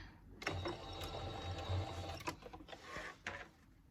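A sewing machine stitches a tote bag, running in close, steady mechanical bursts with brief pauses and clicks between runs, alone without talk.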